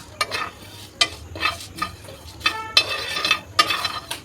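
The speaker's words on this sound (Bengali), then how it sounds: "মশলাগুলো আমি ভাজি" Cumin and fennel seeds sizzle and crackle in hot oil for a mango pickle, with bursts of spattering and the scrape of a spoon stirring the pan at a steady, uneven rhythm, close and alone.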